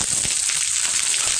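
Curry leaves and small shallots hit hot oil with dried red chillies, giving a steady close crackling sizzle with a few sharper pops early on.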